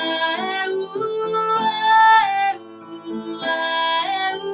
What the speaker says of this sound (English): Now I'm playing the piano.